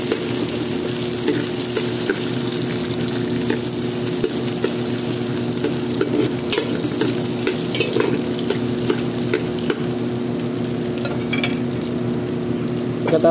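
Onion sautés and sizzles in a pan for spicy chicken tinola, with a steady close frying hiss and repeated scraping and clicking as it is stirred.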